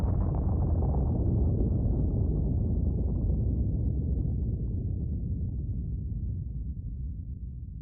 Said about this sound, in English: This is not just an explosion. It is a river. A torrent of molten basalt